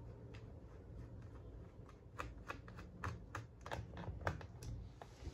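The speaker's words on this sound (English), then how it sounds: "So let's start with removing all the screws." Small screws being removed from a Lenovo B490 laptop, a quiet series of light clicks and scrapes, irregular and close, with no talk.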